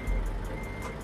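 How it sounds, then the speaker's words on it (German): A Volvo FH12 truck in Euro Truck Simulator 2 backs up with a string of regular, faint reversing beeps over a steady low engine drone. "Ein piepender Rückwärtsgang."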